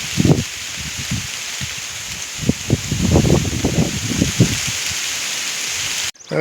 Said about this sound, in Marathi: या पावसानं मोठ्या प्रमाणात पाऊस आला आहे बघा